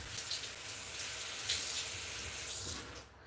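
Tap water runs in a short, faint steady hiss as something is rinsed under a faucet, nearby and alone with no voices.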